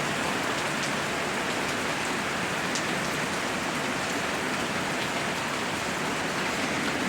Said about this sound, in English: And that rain looks good, don't it?